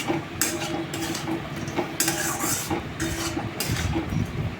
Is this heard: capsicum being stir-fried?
yes